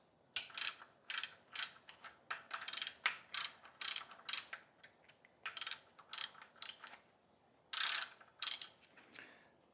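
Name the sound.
ratchet cracking loose camshaft bolts on BMW M54 engine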